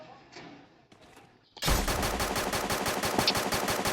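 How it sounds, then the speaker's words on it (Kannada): Automatic gunfire in the mobile battle game Free Fire erupts suddenly after a quiet moment, then continues as a loud, rapid, evenly spaced burst of shots to the end. "ಅದ್ ಯಾವ ಗನ್ನಲ್ಲಿ ಹೊಡಿತಾರ ಬ್ರೋ ಇವರು?"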